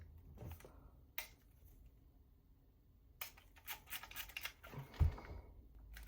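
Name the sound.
camera shutter release clicking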